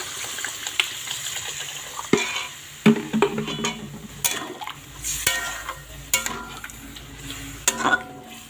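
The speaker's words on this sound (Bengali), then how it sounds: "এখন আমি এর মধ্যে কিছুটা পরিমাণ জল দিয়ে দেব" Water is poured into a pan of fried spices for a jackfruit curry, then stirred, giving a wet sizzle under repeated scraping and clinking of a spoon against the pot, with no talking.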